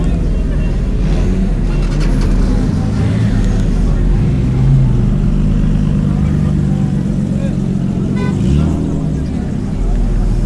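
Cars leaving a motor show at a waterfront festival in Mombasa rumble continuously at moderate distance, a dense low engine wash with occasional swells as vehicles pull away, mixed with background crowd noise and voices.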